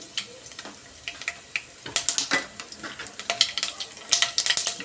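Mustard seeds crackle and pop in hot oil, a close run of sharp, irregular spitting bursts over a low, quiet sizzle, the pops growing busier toward the end.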